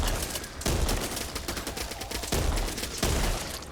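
Hoffman shotgun fire in Back 4 Blood, with a handful of heavy booming blasts at uneven intervals over dense, continuous battle noise and other gunfire.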